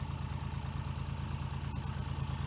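A small tractor engine idles close by with a steady, pulsing low throb and a light mechanical clatter, alone with no voices.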